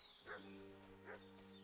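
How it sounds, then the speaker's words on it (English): A dog barks in the video game Kingdom Come: Deliverance 2, two faint, distant barks over a steady droning tone. "What's that dog making such a fuss about?"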